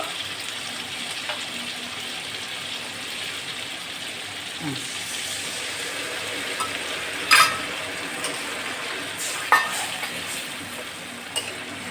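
Fried chicken in a pan gets a spice mix and a splash of water, giving a steady close hiss and sizzle with faint stirring, plus a couple of brief sharp clinks from a utensil against the pan.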